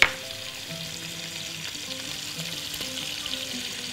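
Garlic, cumin and paprika fry in a pan with a steady, dense sizzle from start to finish, opening with a sharp clink as they hit the hot oil and carrying faint stirring sounds beneath.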